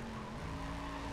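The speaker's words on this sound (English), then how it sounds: "And then you burn out in front of me" Tires squeal in a steady, sustained screech as a car does a burnout in Need for Speed World, with engine roar underneath and no voices.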